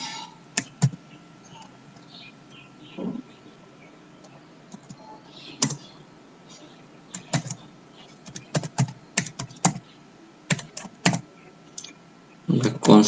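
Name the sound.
typing code on a computer keyboard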